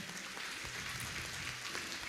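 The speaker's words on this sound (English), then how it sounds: "please give them a huge round of applause for all the children" Steady, fairly faint applause fills the room for the children at a preschool annual day, a continuous wash of clapping from a seated crowd with no voices over it.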